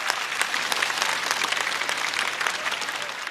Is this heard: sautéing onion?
no